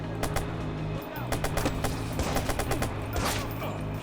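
Bursts of gunfire from the video game Watch Dogs, a rapid run of sharp, loud shots that keeps going through the whole stretch with short pauses between volleys.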